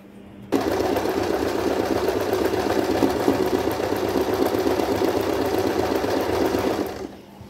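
Sewing machine running steadily while stitching flower embroidery on a cushion cover held in a hoop frame, a loud continuous mechanical whir for about six seconds before slowing to a stop, with no talk.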